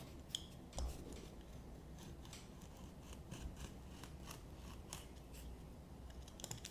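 Scissors cutting out a homemade shoe insole, quiet, close snips and crisp rustles repeating irregularly with faint handling noise.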